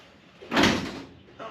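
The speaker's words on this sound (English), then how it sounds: "Unlock the truck." The door lock on a 1960 Ford F100 pickup being worked, a single short mechanical rattle and clunk up close, followed by a faint second click.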